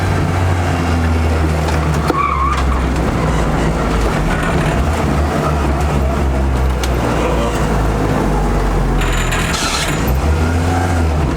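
A loud, continuous supercharged car engine roar with rising and falling revs, a high supercharger whine riding on top, some voices faintly underneath.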